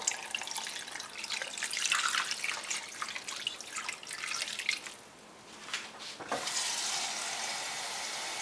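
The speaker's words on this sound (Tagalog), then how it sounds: "And then, lagyan natin siya ng tubig." Water pours from a tap into a cooking pot holding pork neck bones and Korean soybean paste for Korean pork neck bone soup. It is a steady, splashing rush with trickling drips, close by and without talk.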